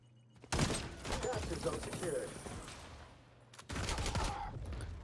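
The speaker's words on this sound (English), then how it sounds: "I was trying to hip fire shoot him" Bursts of rapid gunfire in the shooter game XDefiant, two dense volleys separated by a short pause, loud and close.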